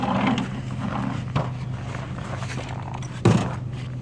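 Wooden pallets are thrown into an old truck, two sharp hollow knocks landing about two seconds apart over a steady low idling hum.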